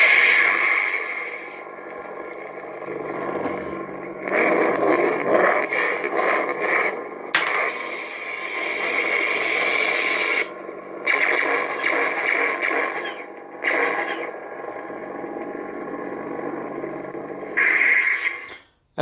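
Lightsaber sound font effects from a Spark 2 or Nano Biscotte v3 saber board: a loud, continuous electric hum with crackling, buzzing swells and sharp clash-like bursts, briefly dropping out between phrases, with no voice.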